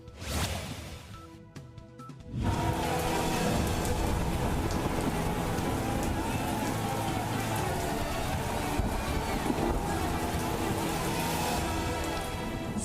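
Heavy monsoon rain pours down over flooded Dwarka, Gujarat, in a dense, steady roar that starts abruptly after a brief quieter moment and continues loudly throughout.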